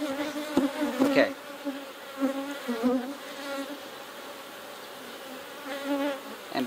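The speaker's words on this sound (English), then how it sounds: "I see lots of bees." Honey bees in a hive split humming close by, a dense droning buzz with wavering pitch and louder passes of individual bees near the start and end, no talk.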